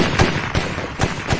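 Gunshots from a tense bomb-disposal war film crack in several sharp bursts spaced across the moment, loud and punchy over a dense rumbling backdrop, with no talking.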